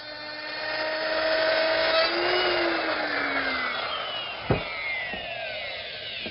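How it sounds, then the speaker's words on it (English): A wood router with a guide fence and a 1/2-inch bit cuts a groove in a toy-chest board, giving a steady high motor whine that slides downward in pitch as it winds down. A short knock is heard near the end. "I'm going to use my router, which is equipped with a guide fence and a 1/2-inch bit."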